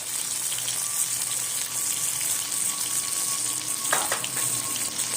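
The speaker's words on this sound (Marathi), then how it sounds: "आणि तेलामध्येच आपण हे मसाले टाकूया हळद दाल तिखट" Turmeric and chili powder sizzling in hot oil, a steady close frying hiss throughout with a brief clink near the end.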